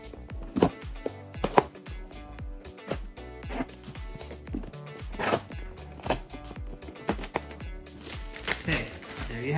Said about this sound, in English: Let's use a good old keychain and brute force to open it.